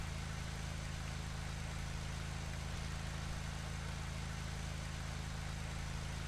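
Aircraft ground power unit running beside an E-195 jet, a steady low droning hum that holds constant and fairly faint throughout with no pauses.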